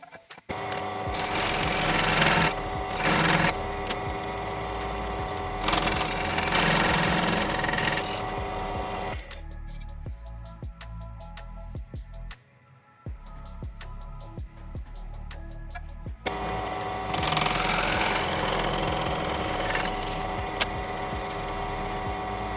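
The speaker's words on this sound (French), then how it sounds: "ce que je vais faire maintenant, c'est prendre un forêt un peu plus large et commencer à faire en sorte d'élargir ça" A power drill with a slightly larger bit whirs loudly, widening a hole in a 1/6-scale Ford Mustang GT500 model. It runs in two long bursts, with a quieter stretch of clicks and handling between them.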